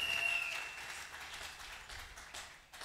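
An audience at a church leaders' conference applauds their patriarch, a moderate, steady round of clapping from a crowd that slowly tapers off.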